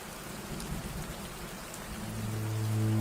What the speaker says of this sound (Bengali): দুপুরে বৃষ্টিতে ভিজে ভিজে জমিতে কাজ করছিল